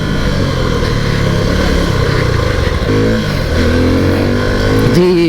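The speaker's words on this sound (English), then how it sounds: "The oil-cooled engine is really feeling very smooth and purposeful" Suzuki V-Strom 250 motorcycle with an oil-cooled engine, heard while riding: a loud, steady close-up engine drone that shifts pitch partway through and rises again near the end.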